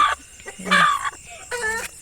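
A sick chicken clucks close by in several short bursts, with brief pauses between the calls.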